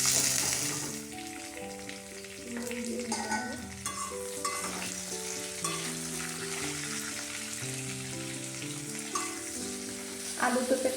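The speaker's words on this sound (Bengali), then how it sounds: "এখানে পাঁচফোড়ন দেবো, আলুটা ভেজে নেব" Potato and papaya pieces frying in oil with panch phoron, a steady close sizzle with stirring and spatula scrapes, while background music plays throughout.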